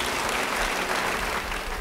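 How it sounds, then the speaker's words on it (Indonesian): A church congregation claps steadily, a dense, even wash of applause from a crowd that fills the whole short moment with no voices on top. "Beri tepuk tangan bagi dia."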